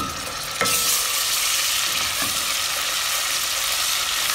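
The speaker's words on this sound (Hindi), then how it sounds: "अच्छे से फ्राई करें, अदरक लहसुन का कच्चापन दूर हो जाए" Ginger garlic paste frying with onions in a pan for keema gives a steady, loud, close sizzle, with a brief stirring clack near the start.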